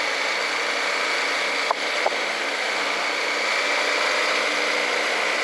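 Steady, loud engine hum of a CF-Moto Papio 125 motorcycle running nearby, a constant drone throughout with a couple of brief clicks partway through.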